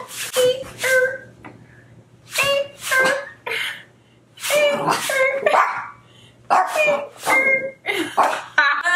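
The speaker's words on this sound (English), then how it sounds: "My dog." A dog yips, barks and whimpers in short bursts close by, in several separate clusters with pauses between them.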